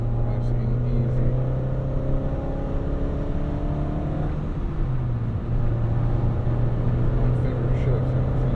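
Engine of a 1988 Acura Integra with a five-speed manual, heard from inside the cabin as a steady loud drone that rises in pitch, dips through gear shifts, then climbs again.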